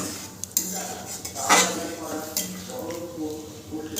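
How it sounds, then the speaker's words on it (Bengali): A utensil scrapes and clinks against a pan as paneer is stirred together with the water it soaked in, with a few sharper metallic knocks and a voice talking alongside. "জলটা খুব ভালো করে দিয়ে মিশিয়ে নিতে হবে।"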